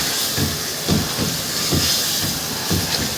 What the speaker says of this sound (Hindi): सॉल्ट वगैरह सब डाल के बस अब ये हल्का सा फ्राई हो जाएगा, यानी कि भुन जाएगा